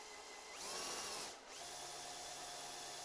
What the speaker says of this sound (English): I'm just going to drill straight down through the center there